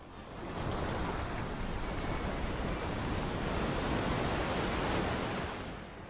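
Sea waves washing onto a South African shoreline, a continuous broad roar of surf that swells in and fades out, loud and steady with no voices.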